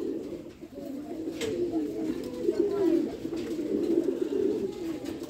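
A pigeon in a loft coop gives soft, repeated throaty coos, close and steady throughout, with a faint voice in the background.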